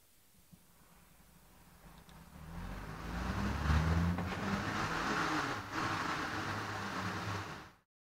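Ive-Car PLUS+ vehicle setting off, a low electric motor hum and rolling noise swelling from near silence to a steady drive, then cutting out abruptly.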